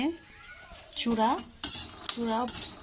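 A metal spatula scrapes and clatters against a pan while food fries, giving several sharp scraping strokes and knocks close up, with only a faint sizzle beneath.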